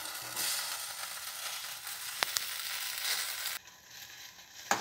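Gongura (mesta) leaves with chilies bubble and sizzle steadily in a hot pan, a continuous hissing boil with a couple of sharp pops near the middle, close and alone.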